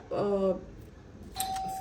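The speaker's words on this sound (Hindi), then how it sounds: "देखिए घंटी बजी है मेरे घर की" A home doorbell rings with a short two-note chime, and a voice starts talking right after it.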